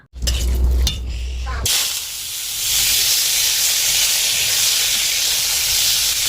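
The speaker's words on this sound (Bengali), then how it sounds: "এখন ভেজে নেব পেঁপেটা" Papaya pieces fry in hot oil in a pan, a steady loud sizzle and hiss running throughout, with heavier clattering at the start before it settles into continuous frying.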